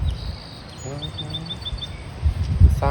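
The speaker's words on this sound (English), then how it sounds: "All the birds and everything, the sounds are nice." Birds chirp in a repeated series of short high notes at an outdoor spot near the Hoover Dam in Westerville, Ohio, fairly faint over wind and low rumble, with no talk.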